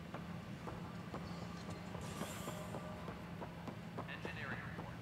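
A tram gliding through a space station in Mass Effect Andromeda, with a steady low rumbling hum and a rhythmic series of light clacking ticks, faint voices murmuring underneath.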